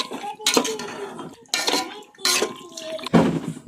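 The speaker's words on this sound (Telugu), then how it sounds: "ఇలా మొత్తాన్ని వేసుకున్న తర్వాత ఇలా మిక్స్ చేసుకోవాలండి" A spoon stirs a chicken biryani mixture in a pot in three or four bursts of scraping and clinking, close by, with faint talk in the gaps.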